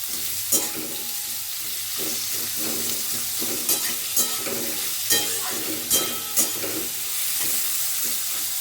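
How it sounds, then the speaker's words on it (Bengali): Potatoes fry in an oiled pan with a continuous close crackling sizzle, broken by regular scraping knocks as a spatula turns them, and no speech. "এই আলুটা আমি ছেড়ে দিলাম। আলুটা ভাজা ভাজা করবো"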